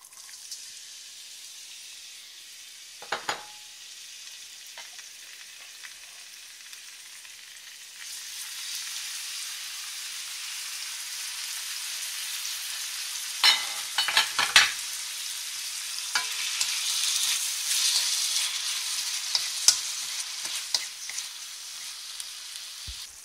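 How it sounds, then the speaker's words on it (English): Onions and tomatoes sauté in coconut oil, a soft steady sizzle that grows louder partway through, broken by scattered scraping stirs from a utensil against the pan. "I'm going to saute some onions, tomatoes with some Oaks coconut oil"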